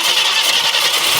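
Ford F100 truck engine from an abandoned pickup, running rough while being adjusted, giving a dense, loud, continuous crackling roar at close range with no talking.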